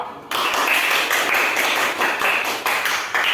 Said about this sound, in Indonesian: kita berikan dulu aplaus pada kelompok 2